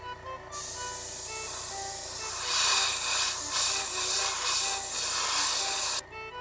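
An airbrush sprays Mr. Color Ultra Metallic paint diluted with Metallic Master onto a black spoon, a continuous close hiss starting abruptly and cutting off after about five seconds, with pulsing bursts midway.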